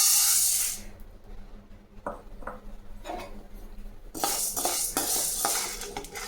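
Urad dal is stirred and roasted in a pan, with scraping spoon strokes, rattling grains and a light dry sizzle, coming in quiet bursts up close.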